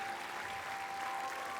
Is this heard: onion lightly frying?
no